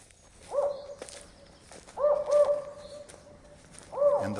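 Northern spotted owl calling in an old-growth redwood forest, giving a few low hooting, rising-falling calls spaced irregularly, moderately close and alone in a quiet setting.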